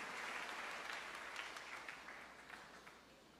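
A church congregation applauding together, a steady wash of clapping held at a fairly even level for a few seconds before easing slightly toward the end.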